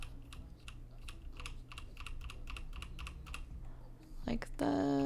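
Rapid computer keyboard key presses while working in Blender, a steady run of light clicks at close range, followed by a brief burst of other noise at the end.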